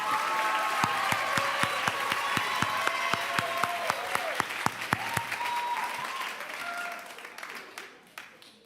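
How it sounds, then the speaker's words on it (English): A crowd at a high school commencement ceremony breaks into sustained applause, dense clapping that stays steady and loud before thinning out and tapering off near the end. "So a round of applause for G2."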